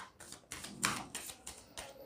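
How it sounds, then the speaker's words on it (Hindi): Tarot cards being shuffled by hand, with soft rhythmic riffling and tapping bursts roughly every quarter second, close and quiet. "जब तक मैं शफल करती हूँ आप पॉजिटिविटी को बनाए रखें दोस्त मेरे।"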